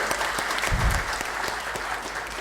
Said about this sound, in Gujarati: એમના માટે તાળીઓના ગડગડાટથી આપણે અકર્મા ફાઉન્ડેશનને વધાવી લઈએ